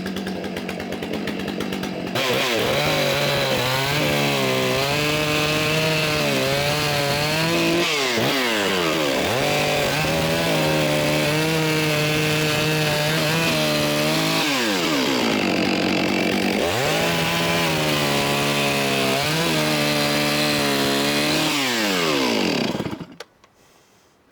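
A Stihl MS661 chainsaw with a 50 cm bar roars continuously up close, its engine pitch dipping and rising as it bites into wood, then cuts off at the end.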